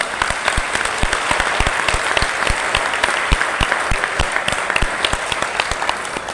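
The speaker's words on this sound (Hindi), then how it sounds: "एक बार जोरदार तालियों से बता सकते हैं।" An audience claps loudly at a poetry recital, a dense, continuous applause with sharp individual claps standing out throughout.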